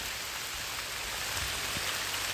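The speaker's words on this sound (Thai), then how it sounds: "ฝนตกฝนกำลังตกมาเด้อพ่อแม่พี่น้องเอ้ย" Steady rain hisses evenly on surfaces in a forest, a constant soft wash of drops with no voices.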